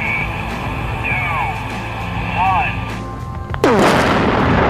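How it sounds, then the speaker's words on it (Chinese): A cement mixer truck with explosives packed in its drum blows up. A steady outdoor background gives way to a sudden loud blast, followed by a sustained roaring rumble. "巨大的爆炸声吓得吉米虎躯一震，而爆炸中心的搅拌车连渣都不剩"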